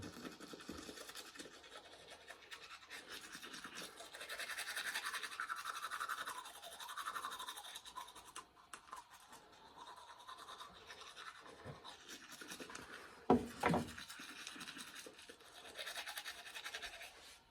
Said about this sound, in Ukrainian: подобається, як вона чистить зуби